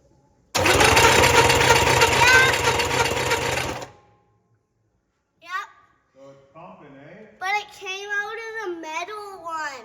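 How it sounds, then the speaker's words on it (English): An electric fuel pump runs on a Camaro with a crusty carb and dirty fuel filter, a loud steady buzzing whir for about three seconds that then cuts off, followed by people talking. "We're just seeing if the fuel pump pumps."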